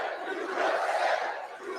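A crowd at a Trump rally in New York roars and cheers in a sustained, distant wall of voices for a couple of seconds.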